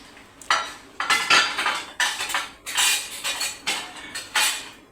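A metal pan is set on the stove for tempering buttermilk, a series of sharp metallic clanks and scrapes repeating roughly once a second, close and clear with no talking.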